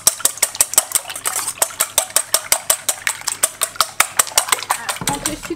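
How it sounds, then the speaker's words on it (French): Whole eggs and yolks whisked together in a bowl for a lemon cheesecake tart, a fast, steady run of sharp clinking strokes against the bowl, close and loud, continuing evenly throughout with no talking. "je vais mélanger mes 4 œufs entiers et mes 4 jaunes ensemble"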